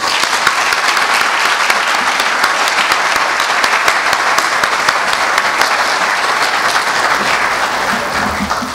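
A large audience at a business summit gives loud, sustained applause for the CEO of Groupe Croissance. The dense clapping continues evenly for the whole stretch and fades slightly at the end.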